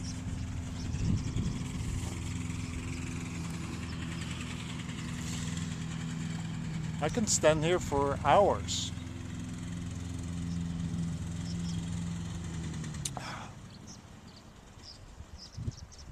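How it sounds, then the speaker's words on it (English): An old lawnmower engine runs at a rough, steady idle, close by, then sputters and cuts out near the end. Someone speaks briefly over it, and a few sharp squeaks and clicks appear midway. "I think that the lawnmower is about to die. No, it's starting up again."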